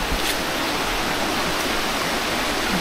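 A small stream flows at the Chompogho Bernam Outback campsite in Tanjung Malim, a steady, close rushing hiss of water with no voices.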